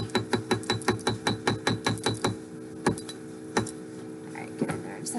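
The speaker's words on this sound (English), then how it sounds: "set that with your chasing hammer" A chasing hammer taps beadwork into place on an earring in a rapid, even series of about a dozen sharp metallic strikes, then a few slower, scattered taps as the work is set.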